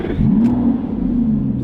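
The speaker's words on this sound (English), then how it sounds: "that starter motor's definitely got a lot more oomph to it" An Aston Martin V12 Vantage's starter motor cranks the engine. It gives a steady, loud, close whirring rumble with an even drone throughout.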